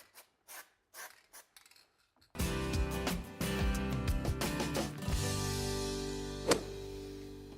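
Car hinges being worked after a coating of white lithium grease, with close metallic rubbing, creaking and ratcheting clicks. Brief taps come first, then a dense stretch of mechanical movement.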